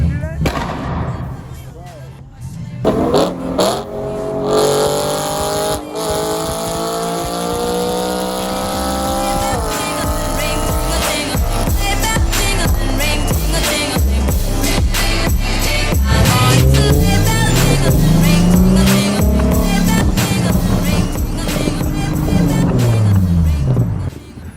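A BMW M3 driving at over 100, engine revving through rising gear pulls with heavy wind and road rumble, loud and close from inside the car, while voices talk over it.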